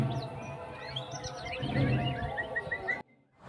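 A young white-rumped shama sings a fast, varied run of whistles and chirps, fairly close, over a steady low background hum that cuts off near the end.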